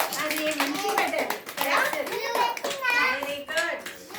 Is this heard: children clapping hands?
yes